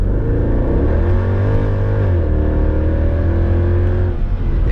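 Mercedes-AMG car on the Autobahn downshifting and then accelerating, a loud steady engine drone with rising harmonics and a brief dip in pitch midway as it shifts, heard from inside the cabin with no talking.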